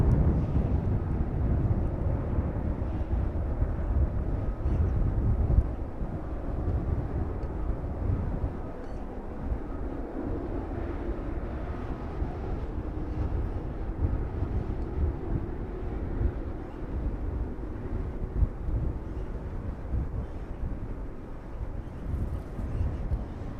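A Ryanair airliner taxis at East Midlands Airport in the evening, its engines a steady low rumbling drone heard from a distance, with faint wind noise and no clear change in level.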